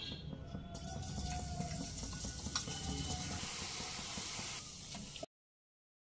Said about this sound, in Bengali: এরকমভাবে সমস্ত বোঁদেগুলো ভেজে নিয়ে আমি ফিরে আসছি।